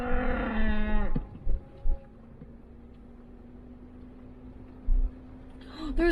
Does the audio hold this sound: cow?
yes